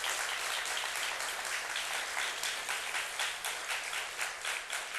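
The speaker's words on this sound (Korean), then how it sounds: "나가는 동안 박수를 한 번 더 쳐드리도록 하겠습니다." A church congregation applauding during a Sunday morning worship service, a thick, continuous wash of clapping that stays loud and even throughout.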